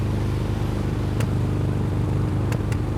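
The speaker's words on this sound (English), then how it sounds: "But a carbureted vintage V12 Ferrari engine, man, sounds like no other." A vintage carbureted V12 Ferrari 330 GT 2+2 engine idles with a dense, even rumble, close and loud, broken by a few sharp clicks or clatters.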